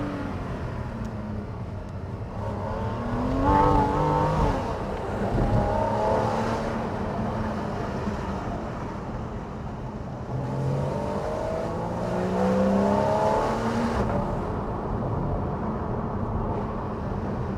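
A 2013 Porsche Cayman with a PDK gearbox accelerates along an open road, its engine note rising and falling in steady surges over constant road and wind roar.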